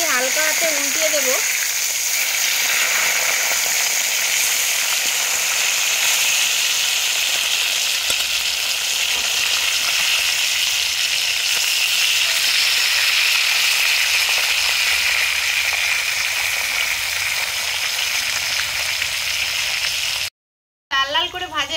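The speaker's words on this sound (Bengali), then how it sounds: "মাছটা আমার এক সিট ভালো করে ভাজা হয়ে গেছে, সব মাছগুলো আমি হালকা হাতে উল্টিয়ে দেব।" Rui fish pieces fry in oil in a Bengali kitchen, their sides being turned, with a dense, even sizzle that holds close and loud throughout before a brief dropout near the end.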